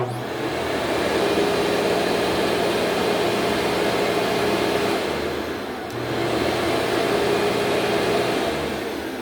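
A commercial vacuum cleaner runs loud and close with a steady, droning roar, cutting out for a moment near the middle and then starting again at full strength.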